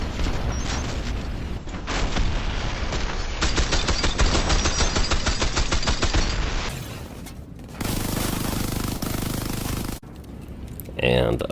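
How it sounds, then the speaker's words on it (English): Dense, loud gunfire and booming grenade explosions from a Warface Earth Shaker co-op mission, continuous rattling bursts with heavy blasts layered over a steady battle roar and shifting effects, with talk running over it. "You're going to see everybody toss their grenades."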